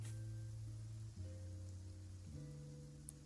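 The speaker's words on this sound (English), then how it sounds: "Which is why the weather is raining." Rain falling in Genshin Impact, a steady soft wash of droplets continuing without a break behind sustained low musical tones, with no talking.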